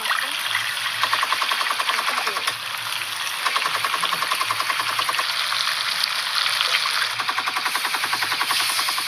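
Water splashed into a hot frying pan in a home kitchen, setting off a loud, continuous sizzle with rapid bubbling crackle and stirring scrapes throughout, no voices.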